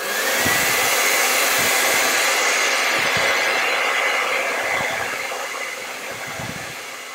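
A hair dryer blowing on wet acrylic paint on a vase-of-zinnias canvas, a loud steady close airy whoosh that stays constant throughout and eases slightly near the end.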